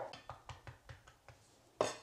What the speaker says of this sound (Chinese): 再把西红柿改刀切片。